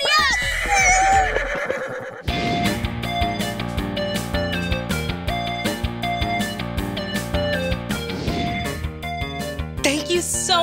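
A horse whinnies at the start, then a bright, busy music bed takes over with steady rhythmic hoof-like beats under it, the neigh loud and close before fading into the music.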